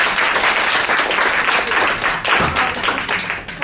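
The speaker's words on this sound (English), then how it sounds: "So let's give another round of applause to our presenters for the" An audience at a public forum on family care for older persons gives presenters a round of applause. Loud, dense clapping runs the whole time and fades slightly at the end.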